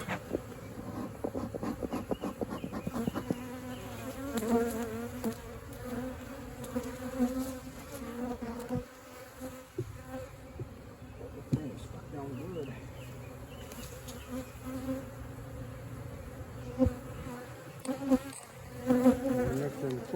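Honeybees buzz around open hive frames during a hive inspection, a dense, close, continuous hum with shifting pitch and occasional louder passes near the listener, plus faint handling noise.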